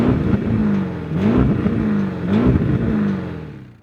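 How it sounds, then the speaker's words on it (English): An Audi RSQ8 Performance SUV engine revs repeatedly against its soft limiter, loud and close, each rise bouncing and holding at the cap in three surging pulses before tailing off. "you get that horrible and annoying soft limiter"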